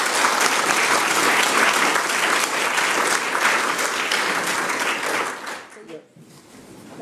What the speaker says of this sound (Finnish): Annetaan vielä aplodit.